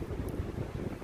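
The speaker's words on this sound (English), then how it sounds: "It's extremely windy. It's been windy all day." Strong wind buffeting a microphone outdoors on the Pacific Crest Trail, a low, rumbling roar, loud and continuous with no voices.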